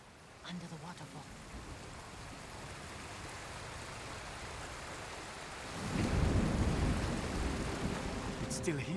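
A waterfall in the video game Ghost of Tsushima, a steady hiss of falling water that swells louder and nearer partway through, with no talk over it.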